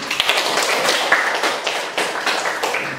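A classroom of students claps their hands together, a dense, lively patter of many close claps running steadily for a few seconds.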